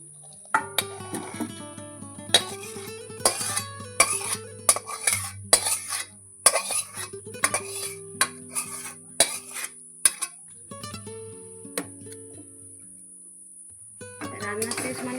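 Cooked pointed gourd with shrimp is scraped and poured out of a pan, a run of close metallic clinks and scrapes of a spatula on the pan, in irregular bursts with short pauses and a quieter stretch near the end.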